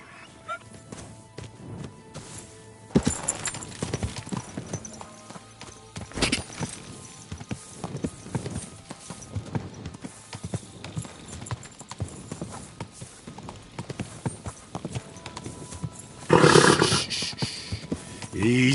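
Horse hooves clip-clopping in the video game Kingdom Come: Deliverance 2, a continuous rhythmic run of close hoofbeats with a louder burst near the end.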